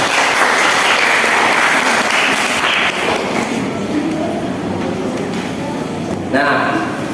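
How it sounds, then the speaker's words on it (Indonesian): A classroom applauds a student, with broad clapping filling most of the stretch, a couple of dips, a thump near the end and voices mixed in. "Ya, tepuk tangan untuk Mbak Siva."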